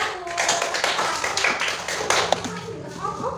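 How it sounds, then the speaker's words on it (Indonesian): A classroom group claps for a presenting student group, uneven sharp hand claps rising and falling over several seconds, with children's voices and chatter mixed among them. "Tepuk tangan untuk kelompok 1"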